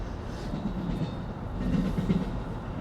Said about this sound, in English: It's an Amtrak train.